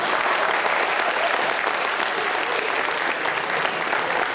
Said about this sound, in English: Give him a great big round of applause.